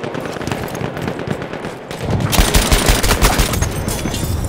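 Battlefield 1 battle gunfire: quiet rattle for two seconds, then a loud, dense burst of rapid shots and bangs that keeps going to the end, with no talking.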